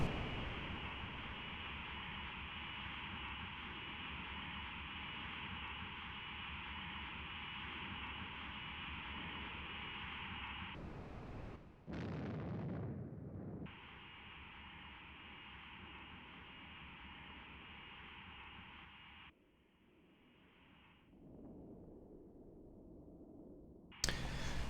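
Cockpit audio from a Kh-29TE optical guided missile run in the Flanker 2.5 flight simulator: a steady loud engine roar, a sharp broadband burst as the missile launches, then shifting tones and a drop toward quieter sound near the end.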